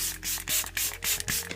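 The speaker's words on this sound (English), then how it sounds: "I'll just set this down with my Tirtir setting spray" Several quick pump sprays of makeup setting spray hiss in rapid succession, close and crisp, each a short misty burst with brief clicks between them.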